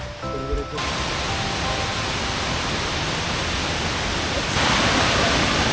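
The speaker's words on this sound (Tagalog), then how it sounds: "May tubig na naman ako naririnig." Water rushes in a steady, loud, broadband roar along a mountain route on a trip through Apayao, Cagayan and Isabela. It starts abruptly after a brief moment of quieter sound and holds constant, growing a little louder near the end.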